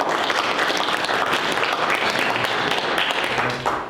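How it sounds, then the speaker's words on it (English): A small community group meeting on regenerative agriculture breaks into a round of applause, steady dense clapping from many hands that holds evenly for several seconds before tapering slightly at the end. "I'll just give a round of applause."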